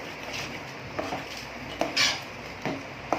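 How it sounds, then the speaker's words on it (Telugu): A spoon stirs masala gravy with turmeric in a pan for Afghani egg masala, with scraping and several sharp clinks of metal against the pan at irregular intervals, close and fairly quiet. "పసుపు వేసుకొని మళ్ళీ ఒకసారి కలుపుకోవాలి బాగా."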